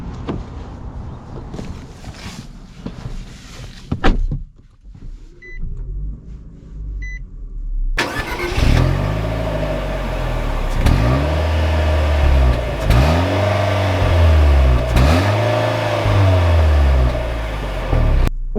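A 2021 Nissan Versa with a manual transmission starts up and pulls away, its engine revving repeatedly in rising sweeps as it accelerates through the gears, with a few soft cabin beeps before the drive begins.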